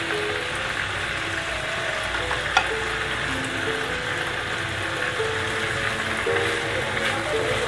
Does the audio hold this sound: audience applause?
no